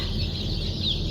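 Chickens clucking softly over a constant low hum, a busy coop murmur without any clear single call standing out.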